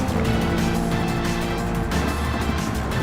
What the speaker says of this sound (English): I hear a lot of tires skidding